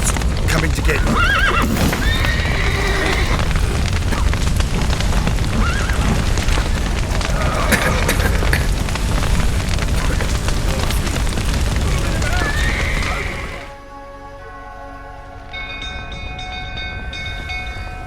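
Horses neigh and whinny inside a burning stable in the Witcher 3 game, with hooves clattering amid loud, dense crackling and commotion for most of the clip before it drops to a quieter tonal background near the end.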